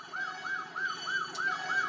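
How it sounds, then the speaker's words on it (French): A police siren from the Chase H.Q. arcade racing game wails in fast, regular up-and-down sweeps, about six cycles, loud and alone in the mix. "avec cette sirène qui braille"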